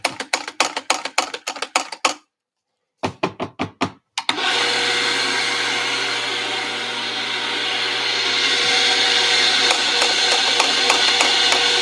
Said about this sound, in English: Whenever you change your grind, you want to purge a little bit.